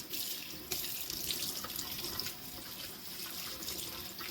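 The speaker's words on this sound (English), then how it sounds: "we're going to get these washed up now." Tap water runs steadily into a kitchen sink while beef is washed, a continuous hissing splash with slight surges as the pieces are handled under the stream.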